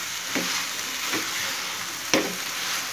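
Cauliflower sautéed with spices hisses in a pan with a steady sizzle, and three distinct spatula scrapes or knocks land at intervals, the last one sharper and louder.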